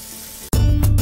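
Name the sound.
chicken thighs in coating deep-frying in oil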